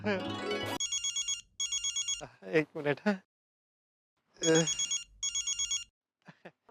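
An electronic phone ringtone rings in repeated patterned bursts, with a voice speaking briefly between rings before the ringing resumes and cuts off.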